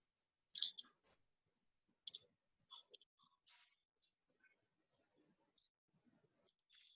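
Sparse computer mouse clicks, several short sharp ticks with long gaps of near silence between, close and quiet.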